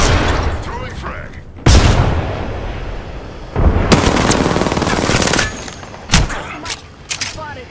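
Rapid automatic gunfire and bursts ring out in a multiplayer shooter video game, loud and close, with dense rattling volleys, sharp single shots and short pauses, while game voice callouts play between shots.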